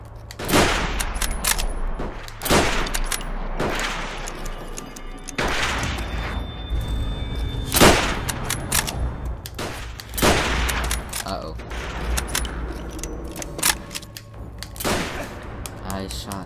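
World at War video game gunshots, loud and close, firing in irregular single cracks and short bursts over several seconds, with explosive booms and voices talking between the shots.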